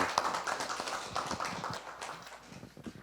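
A faint patter of audience applause at a 2020 peace forum in Seongnam, many scattered hand claps running steadily for three seconds before thinning out.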